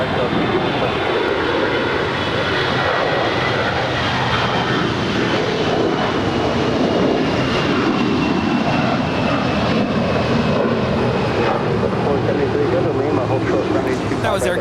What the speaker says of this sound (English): That was Air Canada 790 departing to Toronto. It's a 20-year-old Airbus A321.